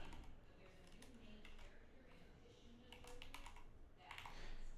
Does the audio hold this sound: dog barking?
no